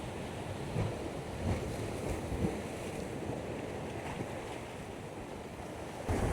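Strong sea waves crash forcefully against rocks on Mundywari Beach in Balochistan, a loud continuous roar of surf and spray with wind buffeting, rising in several heavier surges.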